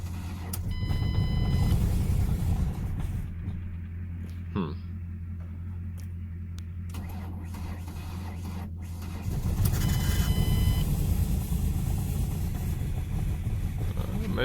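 A Ford Mustang S197 engine cranking slowly with a little stutter, a steady low starter drone that pauses and then surges louder as it catches, with a faint beeping tone in the background.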